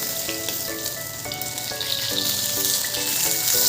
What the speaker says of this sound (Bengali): আর এদিকে মাছটাও ভাজা